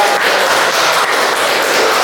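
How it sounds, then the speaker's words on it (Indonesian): Audience applause at a classroom teaching presentation, a dense, steady wash of many hands clapping at once, loud and continuous without pause. "berikan tepuk tangan saja"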